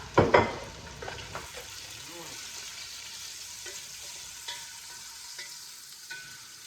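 Onions sizzle in a hot pan, with a sharp burst of stirring and scraping at the start, then a soft steady frying hiss broken by occasional utensil taps.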